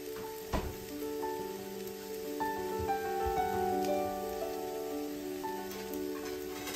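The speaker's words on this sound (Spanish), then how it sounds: "Ya estamos esperando que la cebolla se acabe de dorar." Onions browning in a hot pan while a fried egg is being prepared give a steady, close sizzle, with faint clinks and light stirring scrapes over it.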